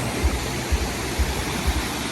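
Floodwater rushes past in a strong torrent, a steady broad roar with soft, regular low thumps pulsing underneath about twice a second.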